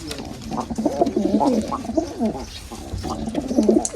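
Several pigeons of the Kaldum fancy breed coo continuously inside a wooden coop box, with overlapping soft, rolling calls that carry on close by, one after another, for the whole stretch.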